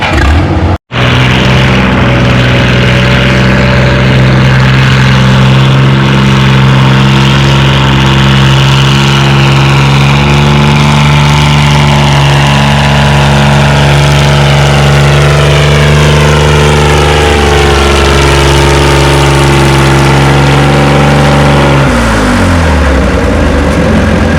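An Arnold 460 pulling tractor roars loudly and steadily during a tractor pull in the 4750 lb 8 mph class, its engine note slowly climbing and wavering under strain before dropping off near the end.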